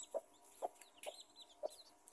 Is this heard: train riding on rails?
no